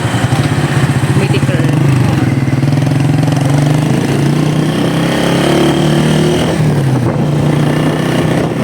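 A motorcycle engine idles nearby with a steady, low, throbbing rumble that shifts slightly in pitch, and faint voices murmur underneath.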